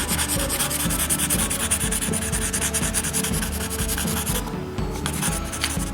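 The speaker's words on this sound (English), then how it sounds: "go ahead and sharpen it again so you can have it nice and smooth" Pencil sharpened during a drawing session, steady rhythmic scraping and rubbing strokes repeating close up for several seconds, continuous and moderately loud with no voices.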